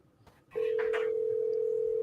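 A telephone tone sounds while a call is placed back to someone, a steady, loud, unbroken note that starts abruptly and continues to the end after a brief faint murmur.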